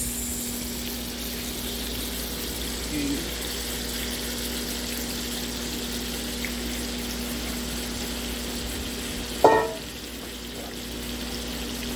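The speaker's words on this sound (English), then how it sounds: "now we're going to sear our steaks off" Steaks searing in a hot pan give a steady, even hiss with a low background hum, broken near the end by one sharp metallic clank.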